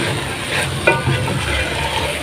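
Okra bhujia is stirred in a hot pan, a steady sizzle and hiss of frying with a spatula scraping and turning the vegetables, close and fairly loud.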